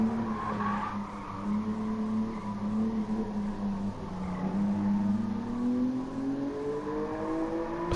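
Car oversteering in Gran Turismo Sport, its engine droning steadily while the tires squeal and skid through a corner, the pitch sliding and shifting as the car slips sideways.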